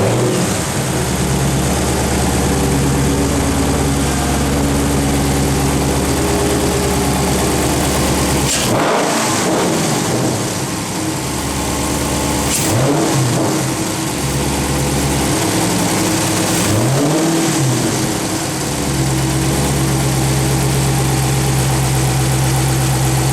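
A 2016 Dodge Charger Scat Pack with a 6.4L V8 and a cold air intake runs loudly up close, a deep rumbling idle broken by several sharp revs that swell and fall back.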